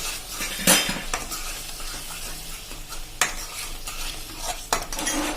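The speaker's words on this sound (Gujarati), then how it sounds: "દહીં નાખીને ફૂલ ફ્લેમ ઉપર આપણે એકદમ ઝડપથી એને હલાવતા રહેશું" Yogurt gravy for a Punjabi potato and capsicum curry stirred fast in a pan over a full flame, with a spoon scraping and clinking against the metal in quick strokes over a steady sizzle and no talking.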